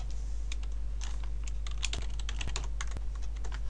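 Quick, steady typing on a computer keyboard while filling in a web form, with light clicky keystrokes in an uneven rhythm and a few sharper key taps, close by and alone.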